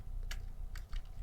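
A computer keyboard being typed on while entering a Linux man command: a few quick, light key clicks in a short burst over a steady low background hum, with no talking.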